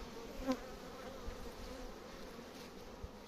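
Caucasian and German honeybees buzzing around hives during a basket-hive inspection, a steady low drone with one brief close pass, faint and continuous with no talk.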